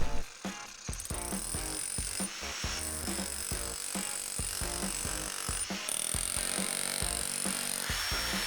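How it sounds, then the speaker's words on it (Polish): A demolition hammer chisels concrete to make room for terrace joists, a loud, close, rapid mechanical hammering that runs almost without a break, with rattling debris and a brief pause near the start. "I w ruch poszedł młot"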